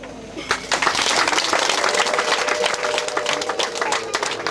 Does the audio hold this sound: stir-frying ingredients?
no